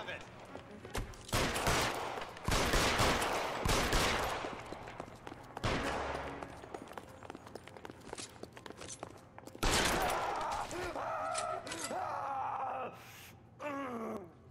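Shotgun and gunfire in a police shootout in the LA Noire video game, a burst of loud overlapping blasts followed by a few scattered shots and groaning sounds, with brief game voices around them.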